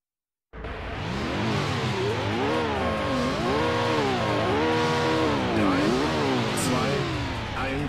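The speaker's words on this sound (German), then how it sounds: "ich fahre natürlich meinen Ferrari jetzt" A Ferrari race car engine in a racing video game roars up from silence and stays loud and close, revving up and down through repeated gear shifts with a rising and falling whine.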